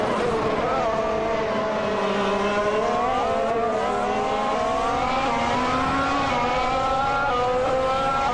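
Race car engines whine steadily in a racing video game, a sustained, loud droning pitch that climbs and shifts gradually as cars hold speed, with other motors layered underneath throughout.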